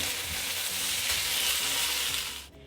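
Potato sabzi for a vrat fast, garnished with fresh coriander, is stirred in a hot pan. A steady, close sizzle of frying runs throughout with soft low scraping, then cuts off abruptly near the end.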